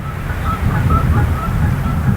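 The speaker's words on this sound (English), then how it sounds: "there's a small pond where we could even hear geese honking." Faint honking calls from geese at a small valley pond rise over a broad, steady rumble of wind or water, distant and repeated a few times.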